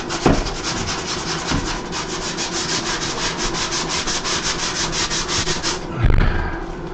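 A power sander grinds over drywall during bathroom construction, a loud, even rasping drone with rapid pulsing that runs for about six seconds before stopping with a bump.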